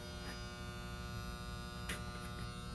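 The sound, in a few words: compressor humming but not starting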